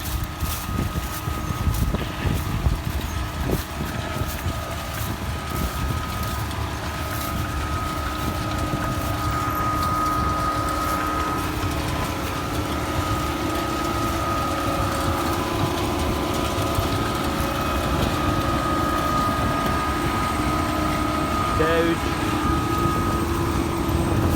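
Holmer beet harvester lifting sugar beet in a field, a continuous heavy engine drone with steady mechanical rumble and a faint high whine, even and unbroken with no talk.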